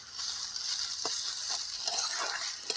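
Ginger-garlic paste and potatoes fry in hot oil, giving a soft, steady sizzle with scattered small pops and crackles close by.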